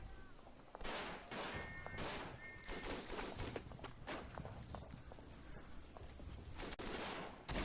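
Artillery and gunfire in the First World War shooter Verdun, with heavy booms and volleys rolling through a constant battlefield din, broad blasts recurring every second or so alongside footstep-like rustling.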